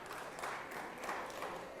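Clapping spreads through the Georgia State Senate chamber during a morning session, a steady, moderate patter of many hands that holds fairly even for its short length.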